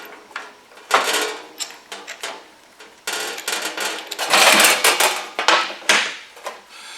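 A hydraulic pump hose is threaded onto a SWAG off-road dimple die, giving a series of irregular metallic clicks, scrapes and rattling handling noises close up, with no talking.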